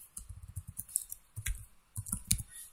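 Keys clack on a computer keyboard while someone types a word into SAS code, in three quick bursts of close, crisp clicks separated by short pauses.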